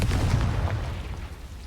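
A Confringo blasting spell going off in Hogwarts Legacy, a single deep booming burst that rumbles and fades over about two seconds, close and fairly loud with no talk.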